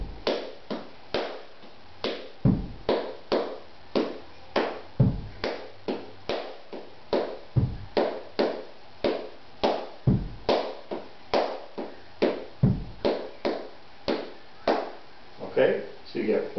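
Flamenco bulerías palmas, sharp hand claps in a steady twelve-beat cycle built from an opening and a closing six, with some claps accented; close, crisp and rhythmic throughout, with no talking.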